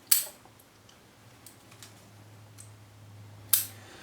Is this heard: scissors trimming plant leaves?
yes